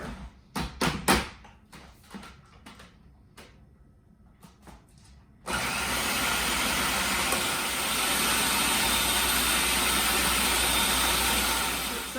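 Food processor blending butter into a no-bake dessert mixture: a few clicks and knocks at first, then a loud, steady motor roar that runs without a break to the end.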